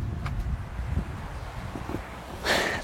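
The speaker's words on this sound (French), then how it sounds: "il y a tout qui tombe à cause du vent" Wind blowing outdoors buffets the microphone in a constant low rumble with gusty swells, rising into a louder rushing gust at the end, with no speech.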